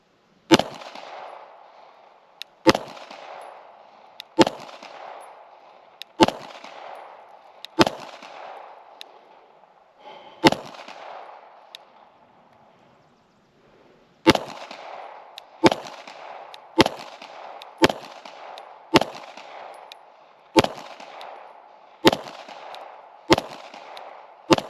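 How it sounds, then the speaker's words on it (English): Rifle shots from a 20-round magazine on an outdoor range, fired while testing an Alpen optic, about seventeen sharp cracks at a steady pace with one longer pause partway through, each loud and close with a brief ringing decay. "we're going to do the last 20 round mag as our final grouping for the Alpen"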